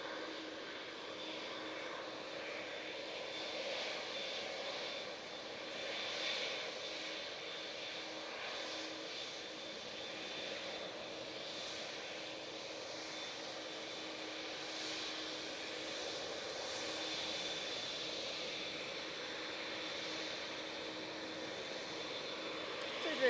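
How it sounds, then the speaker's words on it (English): A Boeing 787 Dreamliner at Manchester Airport gives a steady, broad jet roar that holds at a fairly even level throughout, moderately distant and unbroken, with no talk over it. "Dreamliner now coming on."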